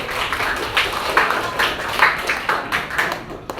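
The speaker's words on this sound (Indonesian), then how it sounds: "Tepuk tangan dulu semuanya." A whole high school class claps together in a classroom, a steady wash of many hands with a few louder accents, moderately loud and without talk.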